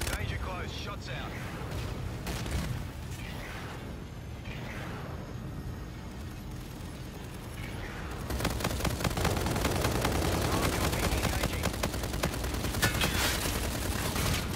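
Gunfire rattling through a Call of Duty: Infinite Warfare battle, a continuous crackle of shots and blasts that grows denser and louder partway through into a sustained barrage.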